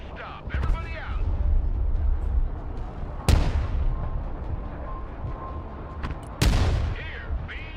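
Artillery fire in the RimWorld video game: two sharp, loud booming blasts land a few seconds apart over a steady rumbling battle din, with a voice talking briefly near the start.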